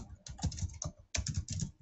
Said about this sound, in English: hold on, I'm typing, can't type and talk at the same time.